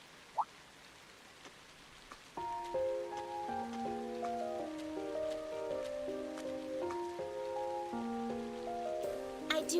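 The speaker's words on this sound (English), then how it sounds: "I do apologize for stopping you on a rainy day like this." Steady soft rainfall patters throughout a scene in The Legend of Heroes: Trails of Cold Steel, a light constant hiss beneath gentle melodic game music that comes in after a couple of seconds.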